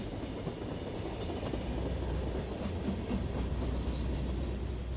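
Steady rumbling train ride on rails in a video game, a continuous close low roar with faint rhythmic rattle, no talking.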